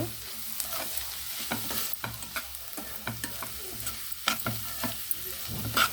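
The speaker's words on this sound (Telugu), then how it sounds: "ఆయిల్లో బాగా మగ్గాలి అంతే ఇది మధ్య మధ్యలో కలుపుతూ ఉండాలండి" Onions frying in oil for an egg curry, stirred every so often: a steady close sizzle broken by irregular scraping and clacking strokes of a spoon against the pan, with no talking.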